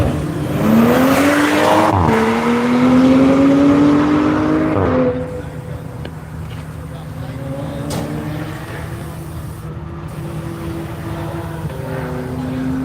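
Race cars, including a Camaro and a Toyota Supra, circulate on a track: a loud engine drones and climbs in pitch before fading, then further cars pass more distantly, with a commentator talking.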